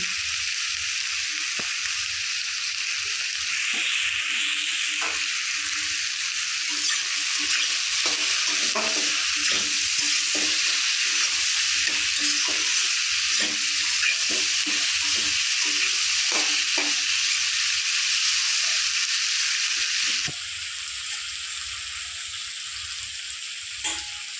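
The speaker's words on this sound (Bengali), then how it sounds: "আলু আমি লাল লাল করে ভেজে নিয়েছি" Potatoes frying in a pan with salt and turmeric for homemade chow mein, a loud continuous sizzle broken by frequent clicks and scrapes of stirring, dropping slightly quieter near the end.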